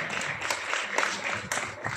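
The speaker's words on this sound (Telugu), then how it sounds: "గట్టిగా చప్పట్లు కొట్టి" Audience applause at a dance studio's second anniversary celebration, a steady wash of clapping lasting throughout with slight swells, moderately loud and without talk.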